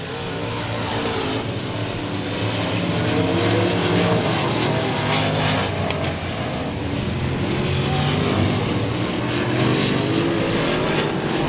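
Race cars at Boothill Speedway roar around the oval in a late-race run with lapped traffic, a loud, continuous engine drone rising and falling as cars pass, filling the whole stretch without pause.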